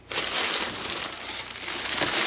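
Bubble wrap packing crinkles and crackles loudly and up close as a parcel holding a Glock is unboxed, a dense run of rustling with a few brief dips.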